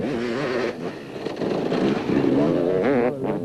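A KTM off-road racing motorcycle, the Nitro Freight Castrol KTM ridden by Alfie Cox in the 1999 Caledon 400 off-road race in South Africa, whines and revs hard nearby, its pitch rising and falling as it accelerates.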